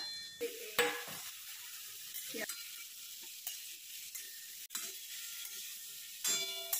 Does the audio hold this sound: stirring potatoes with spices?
yes